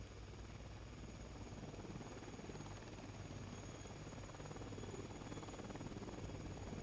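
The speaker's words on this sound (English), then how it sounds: "Is that a helicopter?" A helicopter drones steadily in the distance, a constant low rotor rumble and hum that stays even throughout, with no talking.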